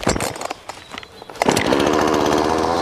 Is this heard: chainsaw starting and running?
yes